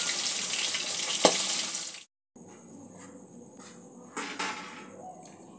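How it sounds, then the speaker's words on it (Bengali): Hilsa fish pieces frying in oil, turned over until lightly browned, with a steady broadband sizzle that cuts out briefly, then resumes at a lower level, with a sharp tap or clink early on and a thin high whine running through the later part. "এইভাবে বাকি মাছগুলো আমি এপিট ওপিট করে হালকা ব্রাউন করে ভেজে নিই।"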